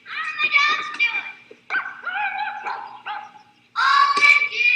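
Dogs aboard an aircraft climbing toward 26,000 feet over Mount Rushmore give three bursts of yipping, whining barks, close and fairly loud, separated by short pauses.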